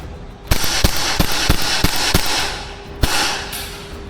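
Series of sharp airsoft gun shots fired with the optic removed, about seven snappy cracks at a steady rhythm, then one more loud shot after a short pause, close and clear over faint background noise.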